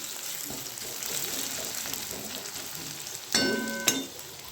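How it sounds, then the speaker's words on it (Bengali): Chopped onion and garlic frying in oil with cumin seeds in a kadai, a soft continuous sizzle up close, broken near the end by a couple of sharper clinks and stirring noises. "কড়াইতে আমি জিরে ফোড়ন দিয়ে এই পেঁয়াজ আর একটু রসুন কুচি দিয়ে দিয়েছি"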